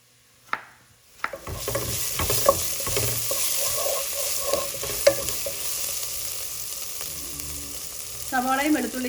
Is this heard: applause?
no